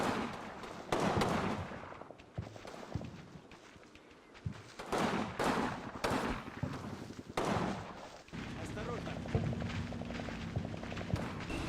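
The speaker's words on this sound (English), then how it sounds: "First tank is in the forest there, firing in support of third platoon" Tank cannon fire from a tank in a forest during a village assault in Combat Mission: Red Thunder, heard as a series of sharp booming shots at irregular intervals over a steady rumbling battle background.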